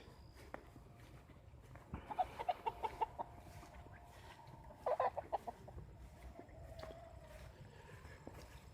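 Backyard chickens, blue Wheaton pullets with blue red and black red stags, cluck in a quiet yard, with soft scattered clucks and two short louder bursts of calls, no talking.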